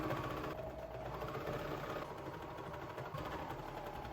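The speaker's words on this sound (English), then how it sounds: "I'm gonna sew up all these side seams together because it's so quick and easy" A sewing machine stitching the side seams of a sweatshirt runs in a steady, continuous mechanical hum with a fast vibrating rhythm, moderately quiet and close, with no talking.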